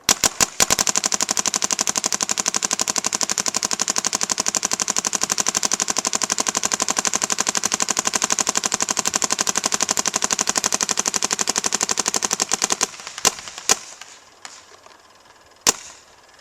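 Shocker RSX paintball marker firing in one long, rapid, evenly spaced stream of sharp pops for about thirteen seconds, then a few isolated shots and quiet.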